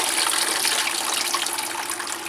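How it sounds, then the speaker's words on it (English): Watering a Phragmipedium orchid with a calcium nitrate mixture: a steady, close, broadband gush of pouring water, continuous and unbroken for a couple of seconds with no talk. "Good watering with this calcium nitrate mixture"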